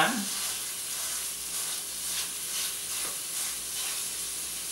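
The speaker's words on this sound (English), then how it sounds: "just like you brown a hamburger, you're going to brown the sausage" Sausage browning in a hot pan gives a steady, fairly quiet frying sizzle with a brief stir near the start and no talking.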